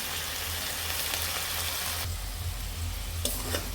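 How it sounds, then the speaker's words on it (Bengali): Fresh broad beans are sautéed with spices in a pan, a steady close sizzle and hiss with stirring scrapes and a low hum underneath, without any speech. "আমাদের সবজিগুলো ভালোভাবে কষে নিতে হবে"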